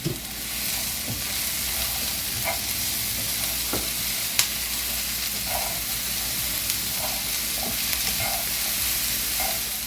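Onions and green pepper frying in a pan for a breakfast quiche give a steady, even sizzle close by, with scattered clicks and light stirring taps throughout and no voices.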